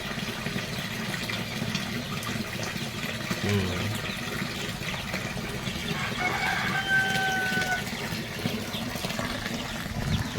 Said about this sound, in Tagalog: Kasi may manok dito eh.